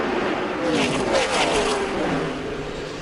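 NASCAR Busch Series race cars roar past at Darlington, a continuous loud engine drone with a rising pass-by whine, with no speech over it.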